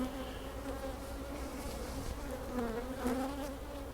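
Honey bees buzz around a hive near the end of the honey flow, a soft, steady droning hum with slight swells, faint and without voices.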